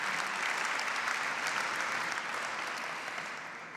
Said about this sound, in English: our wonderful athletes who are with us this evening. They also deserve an applause.